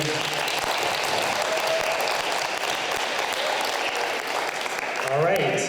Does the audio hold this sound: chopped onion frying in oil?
no